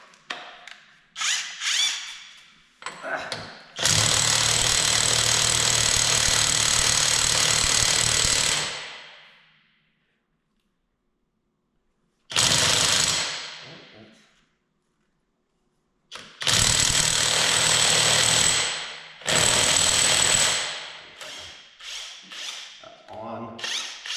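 A high-torque impact wrench rated at 1,000 newton meters hammers in loud bursts of rapid rattling, several seconds long, separated by silent pauses and shorter blips.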